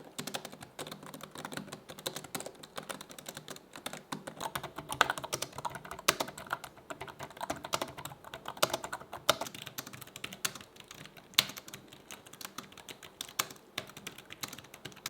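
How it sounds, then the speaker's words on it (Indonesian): Steady rapid typing on the keyboard of a Wiiwu tablet keyboard case, a dense run of light key clicks and taps heard close up for the whole stretch with no talk. "ketiga keyboard case dari Wiiwu ini punya keyboard yang oke, nyaman buat ketik seharian juga"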